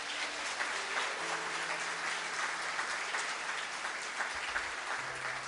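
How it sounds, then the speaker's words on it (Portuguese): A church congregation claps softly, a faint, steady spread of applause at some distance with a low sustained tone underneath and no voices. "Você pode aplaudi-lo por isso?"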